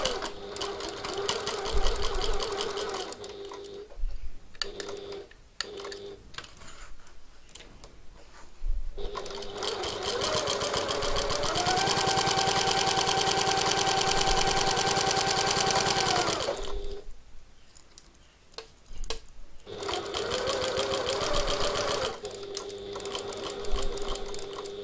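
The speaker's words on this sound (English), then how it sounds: "So we're going to sew directly on the line again." A sewing machine stitches straight along a marked line on a piped pocket tote bag, running in several short bursts before one long steady sustained run and a final brief spell, loud and close with no talking.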